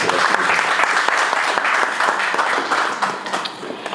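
An audience at a book-signing conference on self-esteem applauds after a presentation, a dense, loud wash of many hands clapping together that tapers slightly toward the end, with no voices.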